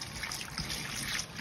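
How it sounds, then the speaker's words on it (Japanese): Tap water trickles and splashes into a colander while offal is rinsed for motsunabe; the stream is faint, close and continuous, with no talking. "水道水で洗います。"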